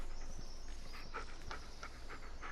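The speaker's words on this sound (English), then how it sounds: "Get a little acquainted with the dog here" Bullet, a dog in the Blair Witch video game, pants in a rapid, steady rhythm, breathy and fairly close, over a constant low background hum, with no talking.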